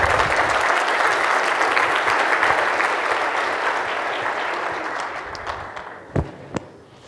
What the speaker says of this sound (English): give Albert a big round of applause.